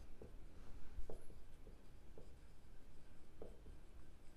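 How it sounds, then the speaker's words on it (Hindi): Pen writing on paper while working a class 10 statistics problem, a series of soft scratchy strokes with brief pauses between them, close and quiet, with no talking. "तो यहाँ पर आपको लिखना पड़ेगा"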